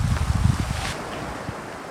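Wind gusting through a snowy winter camp in a blizzard, a loud rumbling buffet against the microphone that eases into a steadier rushing hiss, with no voices.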